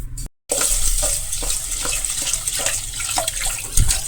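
Rice and dal are washed together in water, with a continuous close sloshing, splashing sound after a brief silent gap at the start and an occasional louder splash.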